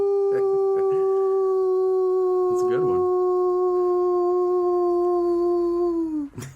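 A person imitates a howl with a long, steady, tonal wail that holds its pitch for about six seconds before dropping off at the end, while faint speech-like sounds come in briefly partway through.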